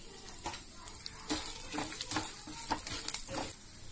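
Dried red chillies with chana dal frying and being stirred in a pan over a medium flame for carrot curd rice, a steady close sizzle broken by repeated scraping stirs, no talking.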